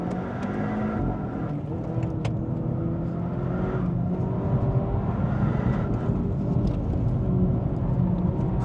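A front-wheel-drive Zeekr car driven briskly produces a continuous low drone with some wind noise; no one speaks.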